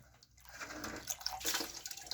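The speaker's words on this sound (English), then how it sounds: "wet my pan a little bit since it's been sitting, and I need a little water in there." Water trickling and splashing into a drywall joint compound pan, a faint, close pour with small drips and liquid patter, no voices.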